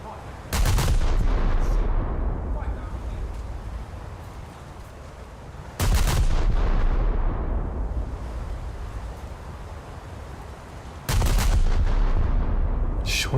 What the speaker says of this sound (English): Let's open up with the HE salvo.